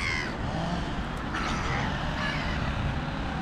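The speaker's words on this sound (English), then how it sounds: "But look at these crows here." A few crows caw outdoors on a frosty winter morning over a steady wash of traffic noise, the calls fairly faint and scattered.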